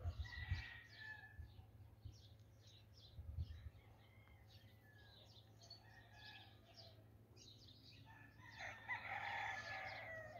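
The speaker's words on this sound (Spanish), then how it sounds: "Muchos gallos se vienen levantando, pueden escuchar ahí los cantos." Roosters crow on a sunny afternoon in a cobbled-street village in Cortazar, Guanajuato, Mexico. The calls are distant and layered, with several birds sounding across the scene and a louder, rougher crow near the end.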